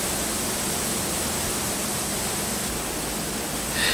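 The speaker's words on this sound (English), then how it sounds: "This is a noisy room with all types of equipment crammed in." Dense, steady broadband roar fills a crowded oil rig pit room packed with drilling mud equipment, an unbroken loud machinery wash with no speech.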